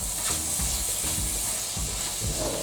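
Onions and mushrooms sizzle steadily in a frying pan seasoned with Chinese five-spice, with repeated scraping stir strokes close by, no talking.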